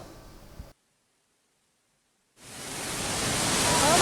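Waterfall at a tourist spot, a broad steady rush of falling water that fades in after a brief silence and swells louder and fuller toward the end.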